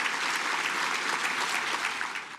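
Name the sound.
audience applause at an awards ceremony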